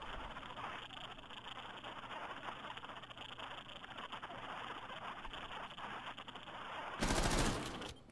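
Gunfire rattles in Rainbow Six Siege, a steady dense crackle of distant shots under game ambience, then a sudden louder burst near the end.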